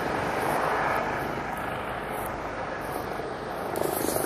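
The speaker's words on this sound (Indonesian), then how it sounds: "ini juga helikopter ya, gratis juga ambulansnya gitu" An ambulance helicopter flies overhead in Sweden, a steady, fairly loud rotor and engine drone that carries through the whole clip with little change in level.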